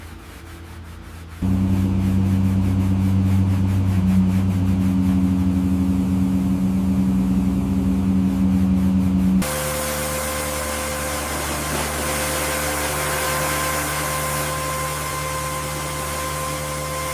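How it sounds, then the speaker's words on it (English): An upholstery shampoo extractor starts up for a suction test on leather car seats, its motor holding a loud steady whine and hum before shifting to a higher-pitched airy drone. "We need to test the suction first."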